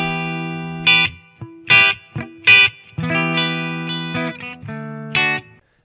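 A Gibson Les Paul Studio on its bridge pickup, run through a pedalboard into a miked Marshall amp with a touch of reverb, plays a short phrase of distorted notes and accented chord hits, close and loud.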